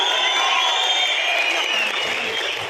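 A large crowd at a political gathering cheers and claps for Chief Minister Siddaramaiah, a dense sustained roar of applause and whoops heard at a distance and fading slightly toward the end.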